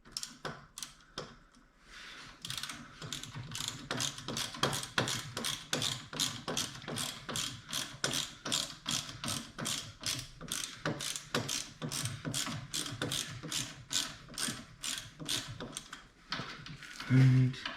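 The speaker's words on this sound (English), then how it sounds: "same thing, we'll start tightening these down." A ratchet tightens bolts on a Harley Davidson Dyna Wide Glide during a reduced reach conversion kit install, giving a long run of quick, evenly spaced metallic clicks up close, with short pauses between strokes.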